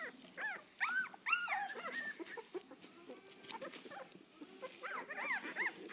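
Three-and-a-half-week-old puppies in a playpen whimper and squeal in repeated high, rising-and-falling cries, several overlapping in bursts near the start and again toward the end, fairly close and without talk.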